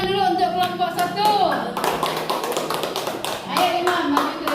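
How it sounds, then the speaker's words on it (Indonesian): A classroom of children claps in rhythmic bursts to welcome the first group before their presentation, with overlapping young voices talking and calling out between and under the clapping. "Kita beri tepuk tangan dulu untuk kelompok 1."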